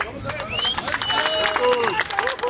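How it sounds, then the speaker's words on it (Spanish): A crowd in a park in El Salvador applauds a visiting tourist from Seattle, with lively clapping mixed with voices, whoops and chatter throughout. "Un aplauso."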